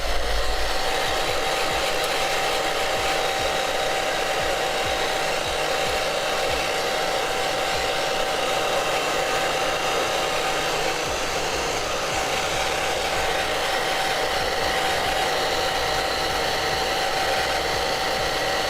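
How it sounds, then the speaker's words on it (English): Hair dryer blowing to dry red paint on Tyranid miniatures, a loud constant whirring roar with a steady whine, running alone without any talk. "let's hit the dryer"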